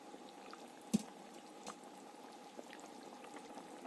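Prawn kofta curry simmers in a pan with garam masala sprinkled over it, giving a faint, steady bubbling hiss and a single soft tap, with no voices.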